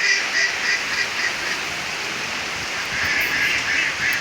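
Ducks quack in the rain, a steady wash of rainfall with bird calls mixed through it at a moderate distance, no talk.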